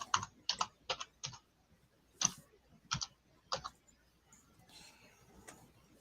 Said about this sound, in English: I'm hearing you typing, Milton.